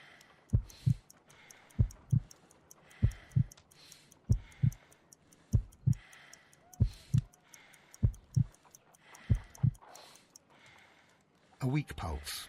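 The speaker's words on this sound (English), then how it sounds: "I need to concentrate and count the heartbeats." Heartbeat during a pulse check in the Sherlock Holmes: Crimes and Punishments video game: slow, evenly spaced paired thumps, about nine beats, fairly close and soft, with a louder burst of other sound at the very end.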